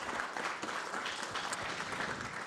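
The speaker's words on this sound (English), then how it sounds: "Please give them a round of applause, and Florian is here today." Conference audience clapping in a sustained round of applause, dense and steady from start to finish with no talking over it.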